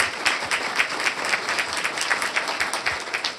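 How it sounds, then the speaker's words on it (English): Steady round of applause from the audience at a county board of commissioners meeting honoring an athletic director of the year; dense, even clapping from many hands, moderately distant and continuous. "Let's have a round of applause."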